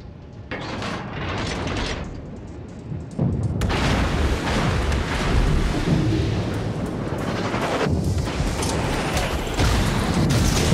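Torpedo explosions in the naval video game World of Warships: a muffled start, then from about three seconds a sustained loud rumble of booms and mechanical clanks that keeps rolling to the end, with no voices.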